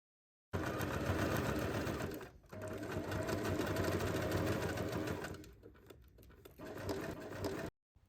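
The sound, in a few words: sewing machine sewing handbag lining to main fabric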